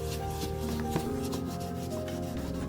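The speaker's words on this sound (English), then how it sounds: "Just scrub the old polish off and be judicious with the acetone" Old wax polish being scrubbed off leather dress shoes with acetone: steady, close rubbing strokes that keep going throughout, under a faint constant hum and with no talking.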